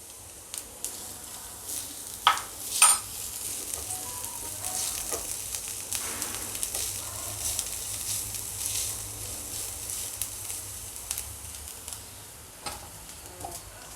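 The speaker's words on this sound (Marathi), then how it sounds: "कांद्याचा कच्चापणा जातपर्यंत आपल्याला भाजायचा आहे" Onions sizzle steadily in a pan for matar paratha, a continuous soft crackle with a few louder stirring scrapes near the start, fairly close and otherwise undisturbed.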